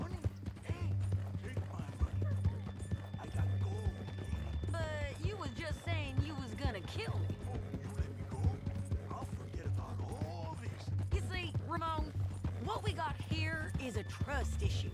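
Steady clip-clop of horse hooves in the game Red Dead Redemption 2 runs under voices talking, with a low continuous drone beneath.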